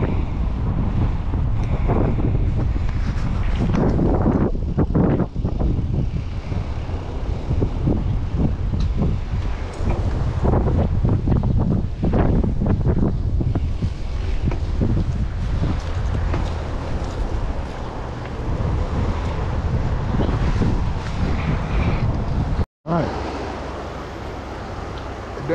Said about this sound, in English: The wind's picked up, because I'm going into it.